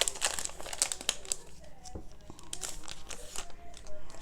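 Clear plastic passport folder handled up close, with crisp crinkling and rustling bursts, loudest at the start, while a person talks over it.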